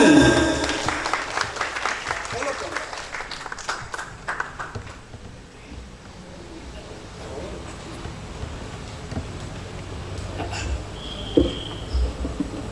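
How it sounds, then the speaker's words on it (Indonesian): An audience claps at a farewell and graduation ceremony for twelfth-grade vocational school students in Indonesia. The clapping is moderately loud and dense at first, then thins out and fades over several seconds into quieter room noise with faint scattered sounds. "Boleh tepuk tangan."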